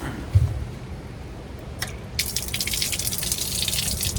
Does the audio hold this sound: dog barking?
no